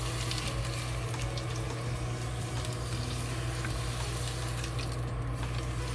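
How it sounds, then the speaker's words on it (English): Hot oil poured over boiled asparagus on a stovetop, giving a steady, dense sizzle with a boiling, bubbling texture that holds at an even level throughout without voices. "Remove the asparagus here, then put the hot oil on top."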